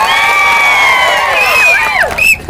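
A large crowd at an outdoor political rally in Maharashtra cheers loudly, with whistles rising and falling and clapping, a continuous dense roar of shouting all the way through.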